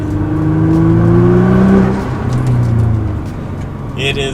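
Nissan GT-R R35 with its exhaust valves open, engine note rising and swelling loudly through a rev, then settling, with a brief higher whine near the end.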